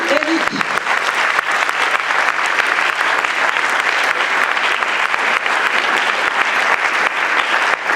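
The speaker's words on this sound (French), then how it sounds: "Sous vos applaudissements." Steady, dense applause from a conference audience at an opening evening, a continuous loud clatter of clapping hands that fills the space from start to finish, with a brief voice heard at the very beginning.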